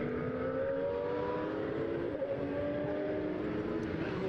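Porsche race cars lap the Estoril circuit during a Porsche Sprint Challenge Southern Europe session, their engines giving a steady, sustained drone at a moderate distance for the whole stretch, with no talk.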